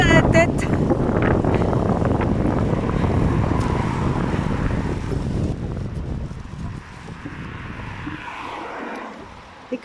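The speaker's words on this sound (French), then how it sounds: "saoulé par ce vent qui donne presque mal à la tête" Strong gusting wind in Denmark buffeting the microphone in a heavy continuous rush that eases toward the end, with a voice talking over it.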